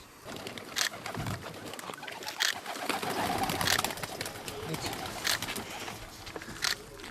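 Homing pigeons cooing in a loft, a steady chorus of soft repeated coos with flutters and clatter around them, fairly near and continuous.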